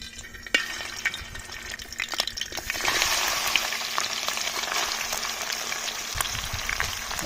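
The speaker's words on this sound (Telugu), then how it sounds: "ఆనియన్స్ ఫ్రై చేసుకున్న ఆయిల్లోనే చికెన్ వేసుకుందాం" Village-style country chicken fries in oil left from frying onions, with close sizzling and bubbling under clinks of utensils, growing louder and denser after a few seconds.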